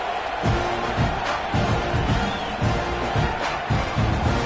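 Stadium crowd noise from a college football video game, Texas A&M, at a kickoff: a steady broad roar of spectators with rhythmic low thumps, continuous and moderately loud, with no talking.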